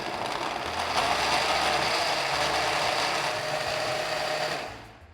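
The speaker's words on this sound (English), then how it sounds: "And now we puree." A blender purees mango pepper sauce for Trini-style pepper sauce in a kitchen, a loud steady motor whir with gritty churning running continuously for about five seconds before cutting off at the end.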